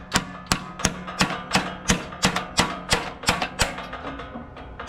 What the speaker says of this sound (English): I'll take a hammer and I'll just hit it like so.